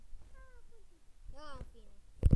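A Minecraft cat meows a couple of short, faint mews in the game, with quiet talk and a brief thump at the end.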